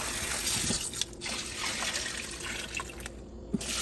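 Crab being washed under a running kitchen tap, water splashing and trickling steadily with a few sharper drips and handling knocks, close and moderately loud.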